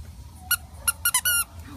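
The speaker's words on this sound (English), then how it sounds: "Do you like the squeaker toy?" A squeaker dog toy squeezed for a nervous shelter dog gives five quick high squeaks, the last one longer, close and loud over quiet background.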